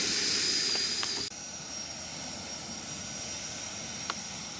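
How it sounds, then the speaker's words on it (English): An E-flite 80mm F-16 RC electric ducted-fan jet flying, giving a steady, fairly faint whine and rushing hiss that drops in level after about a second and holds on, with no voices. "I love the way this plane sounds."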